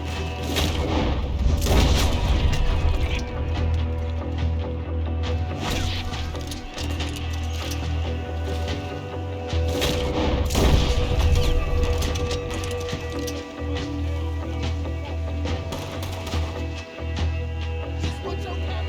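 Dense gunfire and booming blasts fill a video game raid on a gang hideout, with heavy shots and explosions rolling almost continuously, loud and close, with no speech heard.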